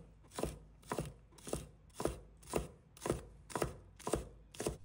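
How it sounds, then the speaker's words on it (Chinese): A knife chops scallion whites into short pieces on a cutting board, nine crisp, evenly spaced strokes at a steady rhythm, close and quiet, with no talking. "1把葱白，把它切成小段"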